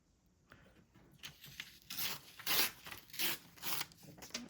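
Paper torn by hand for a junk journal, heard as a few quiet, close ripping bursts that build after a near-silent start.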